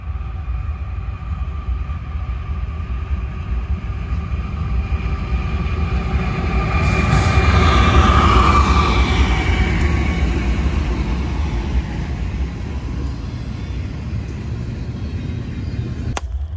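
Stacked freight train rumbling past, a broad low roar that swells to a peak midway and eases off again, with faint rail clatter and no voices.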